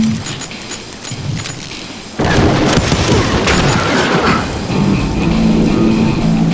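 Gunfire from the Western shooter game Call of Juarez: Gunslinger, a loud sudden burst of shots and booming reports that roll into a sustained dense crackle, close and forceful.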